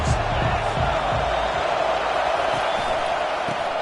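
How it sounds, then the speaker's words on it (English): Loud, steady roar of a packed stadium crowd at an LSU college football game, a continuous wall of cheering and noise with a few thumps, sustained throughout. "This crowd bringing an ear-splitting welcome to their visitors."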